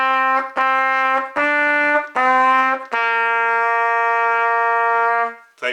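A trumpet plays the Mary Had a Little Lamb melody, a few short detached notes followed by a long sustained final note, clear and close with no talking.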